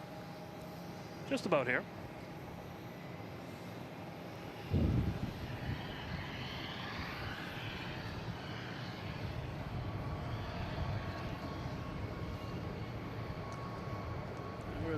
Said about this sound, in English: we have a JetBlue coming in from Vero Beach at A220